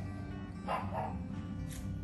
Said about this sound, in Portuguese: E o cachorro vai de novo e eu não vou parar de gravar.